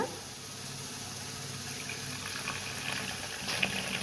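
Tomatoes sautéing in a pan for a dried fish curry give off a steady, close hiss of sizzling that holds evenly throughout, with no one talking.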